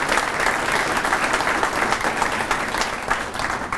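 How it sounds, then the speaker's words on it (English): An audience applauds students at a lecture on the state of the economy, a dense, even wash of many hands clapping for a few seconds. "Quick round of applause again for our students here."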